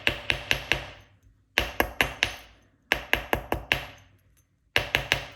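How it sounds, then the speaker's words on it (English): A hammer strikes a copper ring in quick bursts of three to five sharp, ringing metallic blows, with short pauses between the groups. The blows sound close and clear, with no talking. "so that's pretty much all of the hammering done"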